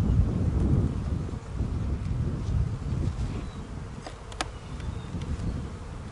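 Steady, dense buzzing of many bees close by around a hive with a laying worker, with a low rumble of wind underneath and a brief sharp tone near the end.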